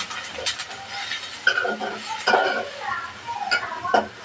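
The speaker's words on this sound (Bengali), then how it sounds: "পেঁয়াজটা ভালোভাবে ভাজে নেব" Onions sizzling and being stirred in a pan with dried and green chilies while cooking chicken curry; scraping and clicking spoon strokes come in irregular bursts over a steady frying hiss, close and moderately loud.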